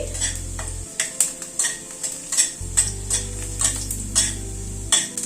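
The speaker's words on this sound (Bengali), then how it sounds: "এখানে ছ সাত কোয়া রসুন নিয়েছি সেটা হালকা করে ভেজে নিচ্ছি" Six or seven garlic cloves being lightly fried in oil left from frying onions for a fish dish, with a steady sizzle, repeated scraping stirs and a low hum that comes and goes underneath.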